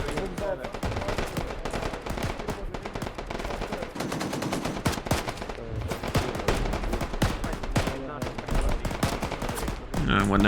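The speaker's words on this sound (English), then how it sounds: "we're now exchanging fire with the enemy" Sustained gunfire exchange in the military shooter Arma 3: dense, continuous bursts of automatic fire and rapid shots overlap for the whole stretch, loud and close, with no pauses or voices.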